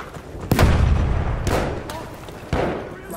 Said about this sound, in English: Throwing grenade, watch it!